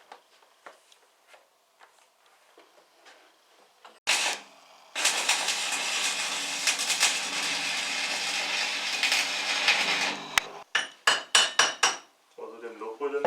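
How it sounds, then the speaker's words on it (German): A weld seam is run on a Porsche 944 shock mount: brief tapping and spot sounds, then about five seconds of continuous loud crackling arc hiss, followed by short sputtering bursts. "ziehe ich jetzt die Naht durch"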